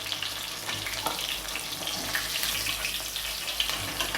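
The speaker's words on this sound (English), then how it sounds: "Leave it right there, don't touch it. Allow it to fry." Fish frying in a pan gives a steady, dense sizzle with fine crackling throughout, close and fairly loud, with no voices over it.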